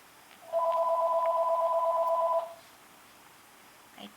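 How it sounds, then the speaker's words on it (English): A phone rings with a two-tone electronic chirp lasting about two seconds, fairly close in a quiet room, then silence and a faint click. "Sorry, my phone is ringing."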